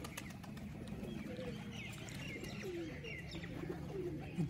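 Pigeons coo repeatedly in low, soft phrases close by, with scattered chirps of smaller birds over a steady outdoor background; the birds are kept by a pigeon flyer who releases them after coloring them.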